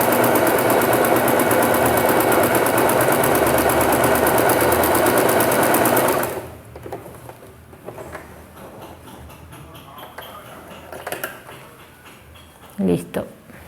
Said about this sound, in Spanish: Y perfecto cose. Ni le fuerza siquiera la máquina porque estoy con el prensatela de doble arrastre.